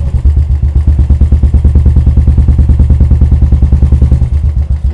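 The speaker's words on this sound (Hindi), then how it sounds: "जब इंजन आइडियल पे होता है इसका साउंड ऐसा है" A Royal Enfield motorcycle fitted with a Swagman silencer idles up close, its loud, deep, smooth bass exhaust thumping in a fast, steady, even beat without a break.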